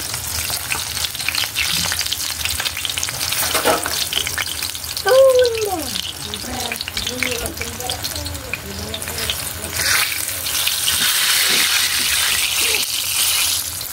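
Eggplant frying in hot oil, a steady dense sizzle that runs throughout, with brief stirring clatter and a short squeaky chirp partway through.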